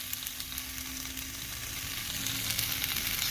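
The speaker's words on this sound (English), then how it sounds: "Listen to that nice sizzle of the ham." Ham sizzling and frying in a pan, a steady close crackling hiss with small pops that builds slightly, no voices.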